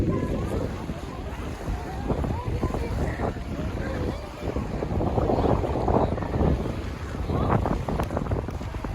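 Strong wind buffets the microphone in loud, gusty rumbling bursts, with a roaring background that swells and dips throughout.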